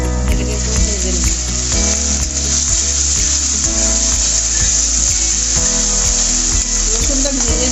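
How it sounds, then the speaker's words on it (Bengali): Garlic paste sizzling and frying in hot oil in a home kitchen pan while cooking a fish and potato curry, a steady loud crackling hiss with occasional stirring scrapes throughout, no talking. "প্রথমে আমি রসুন বাটাটা দিই, এটাকে একটু ভেজে নেব।"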